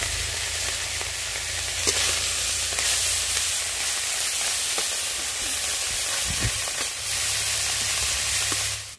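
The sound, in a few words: small fish frying in hot oil in a wok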